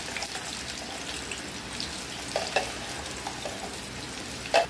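Sliced onions, two or three cut lengthwise, fry in a pan with a soft, steady sizzle and occasional stirring scrapes, close and fairly quiet, with a few brief louder crackles near the end and no talking.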